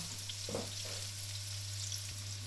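Onions browning in a pan for mishwa noodle soup, giving a steady, moderately faint crackling sizzle with a low background hum and no voices.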